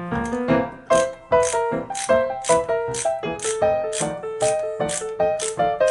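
A Gorilla long ratchet screwdriver turns back and forth to back out a screw, producing a rhythmic series of loud metallic ratcheting rattles, close up and regularly spaced.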